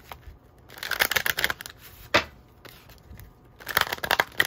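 Oracle tarot cards being shuffled by hand, with repeated papery riffling bursts and soft slaps, close and fairly loud, pausing briefly in the middle before a final flurry.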